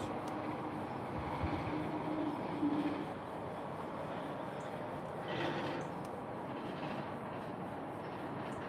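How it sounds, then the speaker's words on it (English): A Pendolino train approaching slowly, heard as a steady, broad low rumble with a faint hiss that stays level across the clip, with one slight swell in the middle and no voices. "Pendolino coming very slowly"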